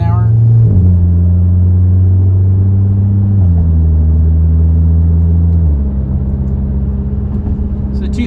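A VW MK7 Golf R with a Nameless Performance exhaust cruises at moderate road speed, its low engine drone holding steady with a few gear-change dips, loud and close from inside the car.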